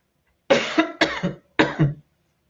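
Three harsh coughs in quick succession, close and fairly loud, each with a rough throat-clearing quality, separated by brief pauses.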